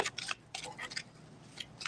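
Several quick, crisp riffling bursts of cards being shuffled close by, separated by short pauses, with faint background noise between them.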